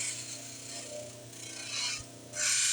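Close-up hand grinding on a house under construction, with repeated rough rasping strokes that swell and fade in an uneven rhythm.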